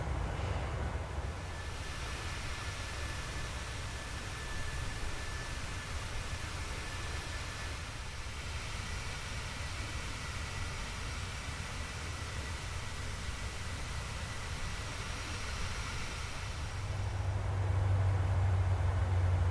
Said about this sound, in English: You hear the engines rolling back